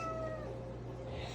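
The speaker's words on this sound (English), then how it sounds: "Meow meow all day." A spoiled house cat gives a single drawn-out meow, close and moderately quiet against a low steady hum.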